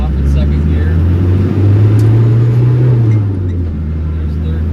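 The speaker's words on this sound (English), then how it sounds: "So plenty of low end torque to start off in second gear." A 1991 Land Rover Defender 90 with the 200Tdi diesel pulls away in second gear, a loud, steady low engine drone rising slightly in pitch as it gains speed, then settling, with a voice speaking over it.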